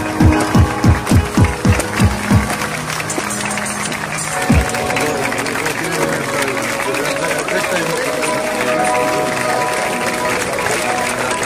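A run of rhythmic thumps opens, then continuous applause from an audience carries on steadily and fairly loud to the end.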